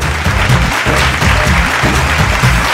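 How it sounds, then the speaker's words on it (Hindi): Audience on a Bhojpuri TV singing competition show applauding to welcome a performer, loud sustained clapping over a pulsing low-pitched musical beat underneath. "जोरदार ताली के साथ स्वागत करिल जाओ"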